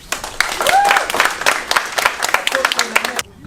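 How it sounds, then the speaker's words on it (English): Applause from an awards-night crowd at a football club presentation, dense clapping filling the room with a few whoops and cheers rising above it before it cuts off. "So let's give a round of applause for Kingy."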